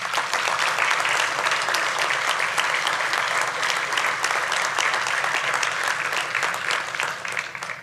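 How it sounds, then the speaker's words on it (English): An audience at the Family Services of Northwest PA 2024 annual meeting applauds in a dense, steady wash of clapping that holds evenly for several seconds before tapering slightly at the end. "Please give the team a round of applause."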